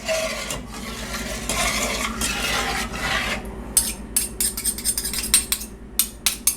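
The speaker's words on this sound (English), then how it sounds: "If you keep stirring it." A spoon stirs dye-free chocolate pudding in a pot as it heats, making a steady, close scraping swirl that later breaks into sharp, separate clinks and scrapes against the pan.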